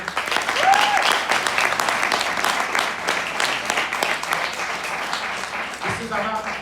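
Sustained audience applause at the Rang Aangan festival conversation event, steady loud clapping throughout with some crowd murmur and voices mixed in.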